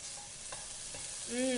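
Bacon frying in a pan for baked beans, a steady close sizzle and crackle with faint stirring, no voice.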